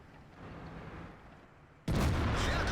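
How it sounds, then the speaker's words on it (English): A tank's main gun fires in World of Tanks: one sudden loud boom breaks over quiet engine rumble and sustains into a broad roar. "another lucky shot on the C-43, which Steve finishes off for me"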